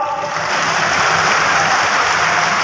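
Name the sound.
crowd clapping loudly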